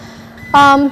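Tape alarm on an Excitech EF480 edgebander signals that edge tape is running out, sounding as a single short loud electronic beep tone about half a second long over a low steady machine hum.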